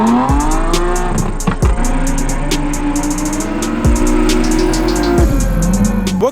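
An Infiniti M30 drifting at a drift event: a loud, sustained engine drone rises and falls while tires squeal, broken by several sharp bursts. No voices are heard.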